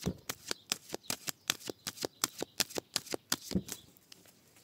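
Tarot cards being shuffled in a steady run of about twenty crisp riffling snaps, close and clear, slowing slightly toward the end with no talk.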